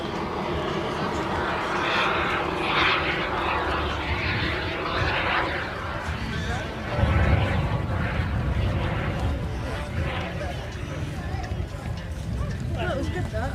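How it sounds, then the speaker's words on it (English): A propeller aircraft with its wheels down comes in to land at the Elvington airshow, its engine a steady drone heard beneath an announcer talking continuously, with the crowd ambience behind. "Wheels down, so it might be in for a landing with Alan."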